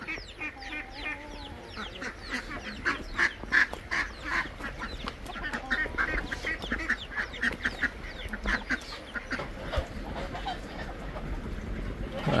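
A flock of farm geese honk and quack together while feeding on earthworms around a small pond on a rainy day, producing a dense, continuous chorus of overlapping calls at close to moderate distance.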